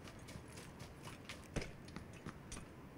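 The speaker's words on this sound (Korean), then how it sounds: "아 발소리가" Footsteps in the battle royale shooter PUBG (Battlegrounds): a faint, steady run of soft thudding steps at a distance, with one slightly sharper step partway through and no talk over them.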